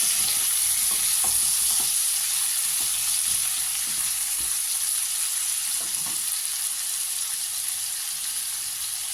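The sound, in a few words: potatoes and tomato frying in pan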